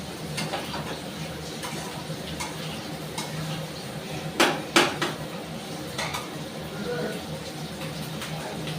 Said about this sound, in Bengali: এদিকে আমার সিমের দানাটাও বেশ ভালো কষানো হয়ে এসেছে।